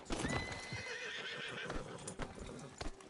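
A horse in the video game Red Dead Redemption 2 whinnies and snorts, with a few hoof clops nearby, fairly quiet, with brief speech around it.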